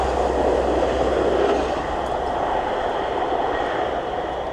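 A passenger train, unit 158774, rumbles past close by on the line near Immingham, a steady broad roar of wheels on track that holds level for several seconds with no voices.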